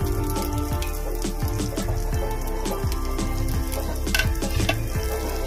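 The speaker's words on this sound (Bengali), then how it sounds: "সবগুলোকে একবার ভালো করে নেড়ে নেব।" Chopped carrot, capsicum and cauliflower frying in a pan are stirred, with a continuous crackling sizzle, repeated scraping strokes and a light rain-like patter, close and loud without speech.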